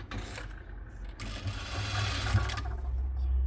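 Sewing machine stitching the hem of a churidar, a steady close mechanical whir that speeds up and runs continuously with a low motor hum.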